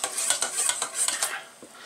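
Quick metallic stirring of melting all-natural lip balm ingredients with vitamin E oil in a pan, a rapid series of soft scraping strokes close up, fairly quiet and with no speech.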